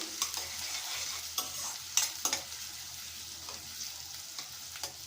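Onions fry in a pan, a soft steady sizzle broken by repeated scraping stirs of a spatula, with a few sharper knocks near the middle; no one speaks.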